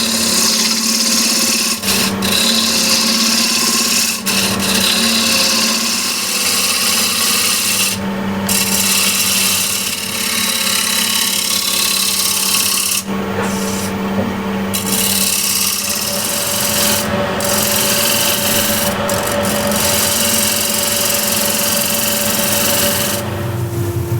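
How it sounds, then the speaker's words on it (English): A spindle gouge cuts into an old wooden bowl spinning on a lathe, a continuous loud rasping scrape with a steady hum beneath and brief louder catches, with no talking. "Spindle gouge."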